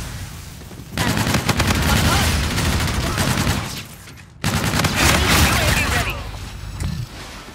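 Grenades explode during Call of Duty: Infinite Warfare gameplay on Xbox One. Loud, rumbling blasts roar in two long back-to-back bursts, filling the whole clip.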